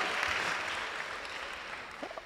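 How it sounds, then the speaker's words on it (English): Audience applause at an awards segment of a health conference, a steady wash of clapping that holds evenly, fairly soft, fading slightly near the end. "I'm thinking you are going to clap"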